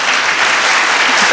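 Audience applause at a senator's town hall in McMinnville, Oregon, a loud, dense, continuous burst of many hands clapping together, heard alone.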